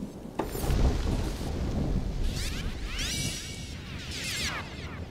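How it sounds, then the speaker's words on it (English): Rumbling thunder blended with sweeping synthesized whooshes and rain-like noise, a continuous loud stormy texture with rising and falling electronic swirls. "This is the Electric Storm, which is a combination of a sample of thunder"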